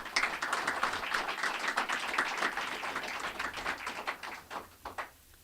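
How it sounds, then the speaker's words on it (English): Applause at a government budget presentation for a leadership team standing at the front, a fairly quiet, moderately paced patter of individual claps from a modest audience that thins out and stops near the end. "Can we give them a round of applause?"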